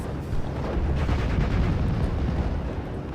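An artillery shell exploding in the World War II strategy game Steel Division: Normandy 44, a loud, broad rumbling blast that stays dense and heavy for about three seconds.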